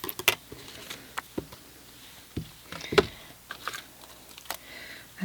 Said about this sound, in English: I'm just going to trim off the excess there.